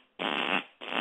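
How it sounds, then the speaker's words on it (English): Two loud, buzzy fart sounds, the first longer and the second cut short, play close and alone with a brief gap between them. "If I was to blow a fart and it sounded like this"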